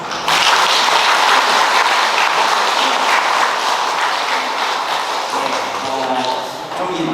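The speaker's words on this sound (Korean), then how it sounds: "신부님 환영한다고 박수" A church congregation at Sunday Mass claps to welcome a visiting priest, a full, steady burst of applause that swells quickly, holds and tapers as a voice begins speaking near the end.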